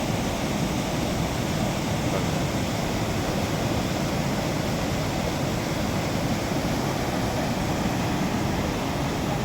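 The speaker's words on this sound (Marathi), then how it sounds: "पाऊस 2 दिवस चांगला पडला त्यामुळे अतिशय धबधबा हा ओसांडून वाहत आहे" A waterfall in the Konkan, Maharashtra, overflowing after two days of heavy rain, a dense continuous roar of rushing water, loud and unbroken throughout with no talk.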